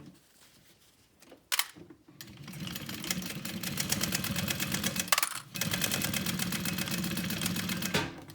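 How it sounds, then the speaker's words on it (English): A sewing machine stitches and top-stitches a seam on a small backpack, running in fast steady bursts with brief pauses between runs, the rapid needle clatter close and continuous. "And now we'll go to the machine and do those the sewing and top stitching."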